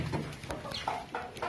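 Several short clucks from cross-breed chickens, close by and moderately loud, in bursts with brief pauses between.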